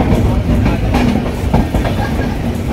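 The Swaraj Express rolls out of Jammu Tawi station with steady rumbling and rhythmic clickety-clack of wheels over rail joints, loud and heard from close by inside the train.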